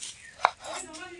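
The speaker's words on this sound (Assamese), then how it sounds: "এইফালে আলুখিনি সৰু সৰু শ্লাইচকৈ কাটি আছে" A knife cuts potatoes into thin slices for an egg recipe, giving one sharp, close chop against a board amid otherwise quiet kitchen surroundings.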